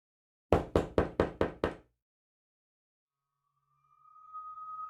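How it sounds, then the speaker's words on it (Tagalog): Six sharp knocks in a quick, even rhythm on a door, close and loud, followed by silence and then a faint, steady hum. "Ang kumakatok sa pintuan."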